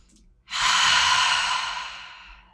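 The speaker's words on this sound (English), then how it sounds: "Take some big breaths into your tummy." One long, deep breath drawn slowly into the belly during a relaxing floor exercise, loud and close, steady for about two seconds before it fades gently.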